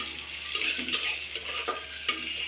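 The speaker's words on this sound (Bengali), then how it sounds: "এখন দেখুন ওই মশলাটা প্রায় ভাজা" Soft frying sizzle under the scrape and clatter of a spoon stirring spice paste in a pan, with a few sharper knocks.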